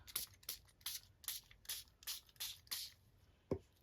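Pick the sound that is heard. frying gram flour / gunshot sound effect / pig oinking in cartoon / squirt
squirt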